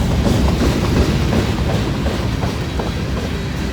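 An empty grain train rolls past at close range, loud steady rumble with rhythmic clickety-clack of wheels over rail joints and rattling cars, no voices.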